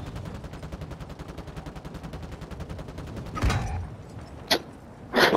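Rapid automatic gunfire from a video game rattles in a dense, steady stream, then breaks into a few louder separate shots and bursts.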